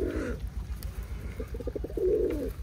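Pigeons coo in a short series of soft, low pulses, close by and steady, with faint background hum and no talk over them.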